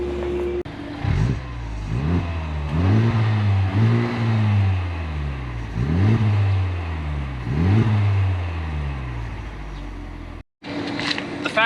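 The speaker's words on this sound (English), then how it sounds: "show you some beginning sound clips of what the car sounds like stock" A Honda Civic Type R with its stock exhaust revs up and falls back four or five times in a row, a throaty exhaust note rising and dropping, close and loud, then a brief cut.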